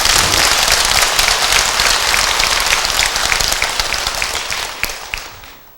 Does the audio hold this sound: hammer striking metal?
no